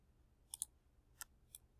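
A computer mouse clicks while layers are selected in image-editing software: four faint, crisp clicks, two close together and then two spaced apart, in a quiet room with no talking.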